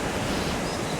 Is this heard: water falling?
yes